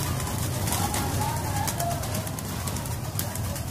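Breeder pigeons coo softly amid steady outdoor background noise, with faint low murmuring throughout.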